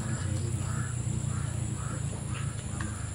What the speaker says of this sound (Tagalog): Sundan pa rin tayo ng mga uwak dito.